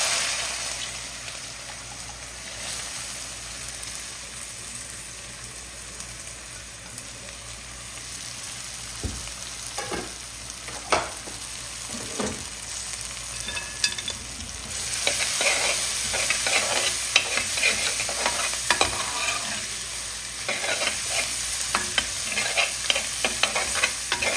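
Mustard seeds, ginger and garlic fry in hot oil for a beef trotter curry with a steady, close sizzle, while a spoon stirs and scrapes the pan. The frying grows louder and busier in the second half.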